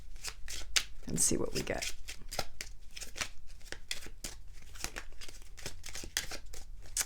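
Chakra cards being shuffled, a rapid run of crisp riffling flutters and snaps going on steadily from start to finish, close and clear, with a person talking over it.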